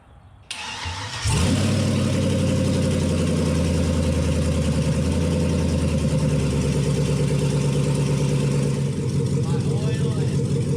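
A car engine cranks and catches, then settles into a steady, loud idle that runs on while it warms up to temperature, with a slight drop in level near the end; someone speaks over the running engine.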